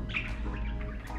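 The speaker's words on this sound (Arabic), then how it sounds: "ودول العصافير كمان عاملين ازعاج دايما بيغنوا لي." Sparrows chirping and singing in a garden, quick bright high chirps repeating over a steady low background hum, moderately close.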